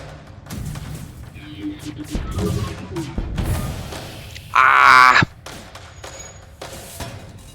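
Weapons fire in the spaceship game FTL, with a string of dull thumps and booms followed by a loud, bright electronic burst near the end, while a voice talks over part of it.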